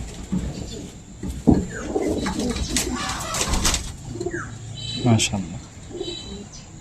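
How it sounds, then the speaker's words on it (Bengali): Pigeons coo softly and repeatedly inside a loft, with low murmuring calls scattered throughout as people talk nearby and occasional wing flutters and knocks sound up close. "এইখানে আরো হিউজ পরিমাণ কবুতর আছে"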